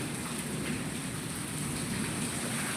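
Heavy rain pours down in a steady, dense hiss with no breaks, close and constant across the whole stretch, with no voices.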